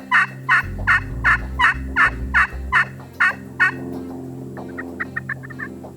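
Several Osceola wild turkey toms gobble in a loud, rapid series of about nine bursts close by, answered by softer turkey calls and clucks trailing off in a south Florida pasture near a swamp.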